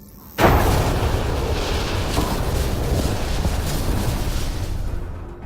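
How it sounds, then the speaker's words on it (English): A spaceship explodes in the video game Mass Effect: Andromeda, a sudden loud boom that gives way to a long roaring rumble and then fades at the end. "The ship explosion would be silent."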